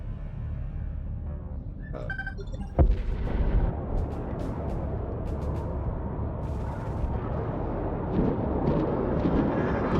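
Defense turrets on the Kar Kushan mothership firing at attacking drones in the space strategy game Homeworld 3: a sharp boom near three seconds, then a dense, continuous rumble of rapid fire and blasts running steadily to the end.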